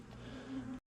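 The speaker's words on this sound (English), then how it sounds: "This side has lots of bees." Bees buzz around a beehive frame in a steady droning hum, close and faint, lasting under a second before cutting off abruptly.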